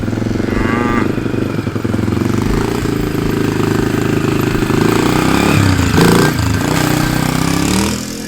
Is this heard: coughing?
no